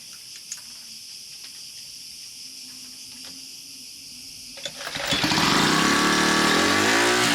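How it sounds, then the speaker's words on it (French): An outboard motor on a solo sailboat in the Cyclades starts up after about five seconds of quiet insect-filled ambience, then runs loud and close with a steady, rising drone. "vérifier le moteur hors bord"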